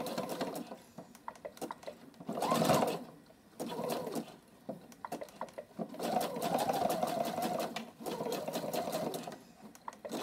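A sewing machine stitches coiled cotton rope into a basket in close, loud bursts of rapid mechanical chatter, with brief pauses between runs.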